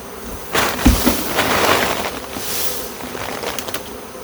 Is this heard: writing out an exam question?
no